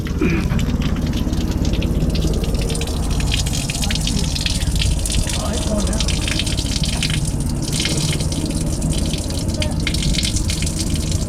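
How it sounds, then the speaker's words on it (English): Water from a camper van shower draining during a leak test, a steady continuous gush and trickle close by with faint drips, no talk. "here's a test of the water drain"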